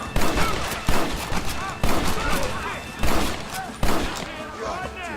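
Repeated gunshots ring out in a Red Dead Redemption shootout, loud sharp cracks spaced roughly a second apart with echoing tails, mixed with voices talking over the firefight.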